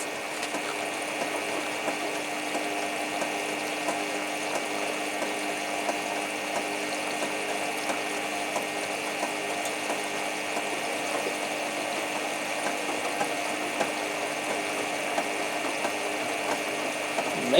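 Samsung washing machine running with a load of towels inside, a steady mechanical whir with a pump-like drone and faint ticking and clicking, continuous and fairly quiet with no talk.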